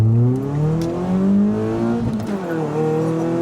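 A Ford Fiesta ST150 with new lower engine mounts pulls away at low revs, its engine note droning and rising smoothly from inside the car with no other sounds.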